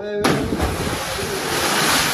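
A person jumps into the water of an open well. A sudden loud splash is followed by a sustained rush and churn of water, close and noisy until the end.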